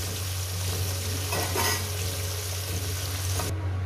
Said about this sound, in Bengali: আর 2 পিস সাথে বন্ধুরা একেবারে মাছ ভেজে নিয়ে দিচ্ছি।